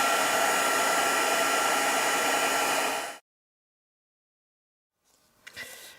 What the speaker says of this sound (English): Turn on my heat tool and heat emboss the white embossing powder.